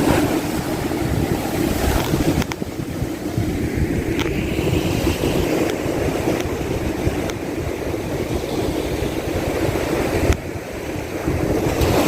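Surf breaking and washing continuously on Rambilli beach, a steady roar of waves mixed with wind buffeting the microphone, with no talking.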